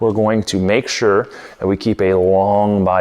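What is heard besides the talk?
No distinct noise like a dog, phone or traffic.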